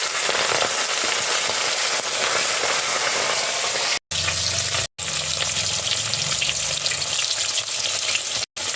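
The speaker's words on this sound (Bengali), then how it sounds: "মাছগুলো এবার একে একে ভালো করে ভেজে নেব।" Fish fry in hot mustard oil in a karai, giving a loud, continuous crackling sizzle with a few brief dropouts and no talking.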